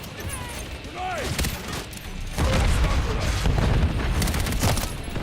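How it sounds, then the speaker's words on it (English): Explosions and heavy gunfire ring out in a chaotic military shooter game, with a loud boom settling into sustained rumbling fire as a player's voice shouts over the action. "Grenade!"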